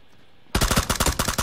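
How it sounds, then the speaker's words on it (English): Automatic gunfire in the video game PUBG, a sudden loud burst of rapid, closely spaced shots breaking out after a brief quiet moment. "We're getting shot from the city."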